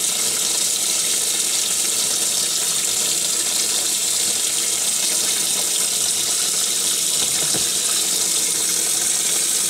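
Tap water pours steadily over a Sony Xperia Z2 phone during a waterproof test, a loud, close, continuous rushing hiss with no talking.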